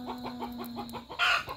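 Several chickens cluck in a quick rhythmic series close by on a rural farm on a cold winter morning, ending with a louder squawking burst.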